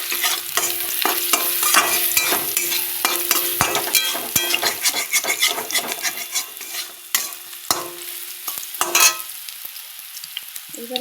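Browned onions frying in a pan with turmeric added for Bihari dal tadka, sizzling steadily while a utensil stirs and scrapes in repeated strokes, close and fairly loud, easing toward the end.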